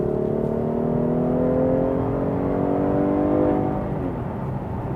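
A 2014 Cadillac CTS V-Sport accelerating hard in sport mode, its engine note climbing steadily in a loud, close, sustained roar before easing off near the end.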